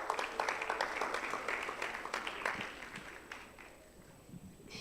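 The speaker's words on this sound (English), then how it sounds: "Clap for her, she comes." A crowd claps in a burst of applause that gradually fades out, heard from a moderate distance.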